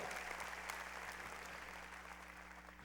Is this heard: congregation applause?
yes